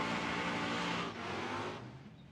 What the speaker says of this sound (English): The 417 cubic inch LT motor with an F1 blower.